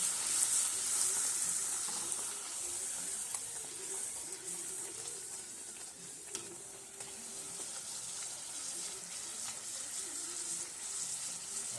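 Wheat-flour puris fry in hot oil with a steady, soft sizzle and faint bubbling that runs throughout, fairly quiet and unbroken by speech.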